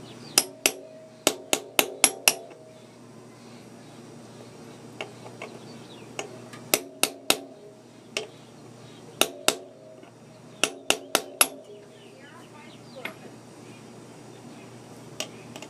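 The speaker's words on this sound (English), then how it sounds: "You can take a socket and gently tap it in." A socket taps a shock bushing into a Brute Force 750 ATV's shock mount. Sharp metallic knocks come in quick bursts of three to six, separated by quiet gaps. The knocks are close and clear, with no talk.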